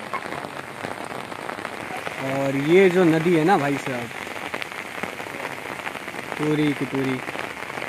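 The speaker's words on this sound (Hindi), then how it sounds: "और बहुत ही ज़ोरदार बारिश हो रही है।" Heavy monsoon rain pours down on a village, a steady dense hiss of drops beating on surfaces throughout, with someone talking over it in the foreground.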